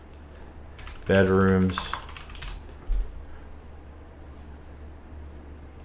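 Fingers tap a computer keyboard while a price is entered into a real estate listing tool, a brief close burst of keystrokes with a voice speaking over part of it.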